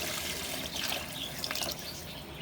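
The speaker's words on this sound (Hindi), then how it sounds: "अब हम इसमें 1 जग भर के पानी डाल देंगे" A jug of water pours steadily into a pan of cooking liver masala, a continuous close trickling and splashing that fades near the end, with no talking.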